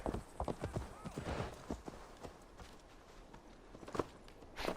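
Horse hooves clip-clopping in Assassin's Creed Valhalla, a steady walking gait of close, crisp hoof strikes with game ambience underneath.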